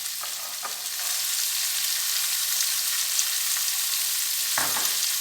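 Onions fry in hot oil for mushroom biryani, giving a steady, moderately loud sizzle with a few brief scraping stirs, close and without talk.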